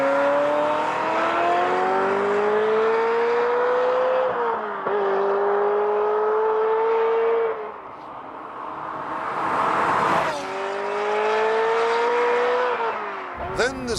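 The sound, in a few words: Ferrari car engine noise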